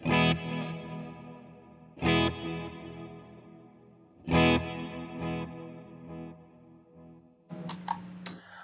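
An electric guitar run through a delay and reverb pedal plays three loud struck chords, each ringing out with repeating echoes and a long decaying tail, followed by a brighter, more distorted burst of strums at the end.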